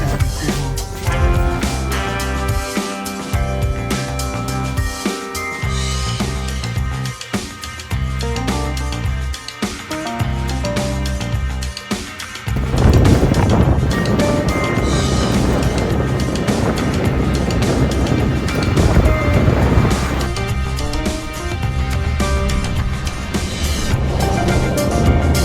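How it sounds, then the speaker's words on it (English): Steady broadband roar of wind and rain outdoors, loud and continuous, growing heavier about halfway through. "it's kind of a windy day here. It's raining"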